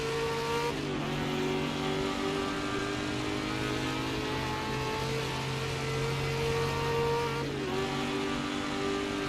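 A 1966 Ford GT40 racing engine roars at Spa in Assetto Corsa, a loud steady high-revving drone with two quick dips and pickups as gears change, the engine note dominating throughout with no talk.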